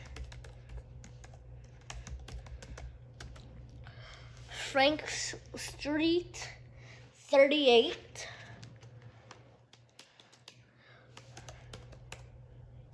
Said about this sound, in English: I'm just typing nothing.